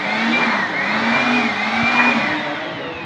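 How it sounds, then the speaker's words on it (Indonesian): A handheld electric blower blows dust off engine components such as an alternator, giving a loud, close, continuous airy whine whose pitch wavers gently up and down for three seconds. "kalau ada komponen-komponen yang bisa dibersihkan menggunakan hand blower ini, kita akan pakai hand blower"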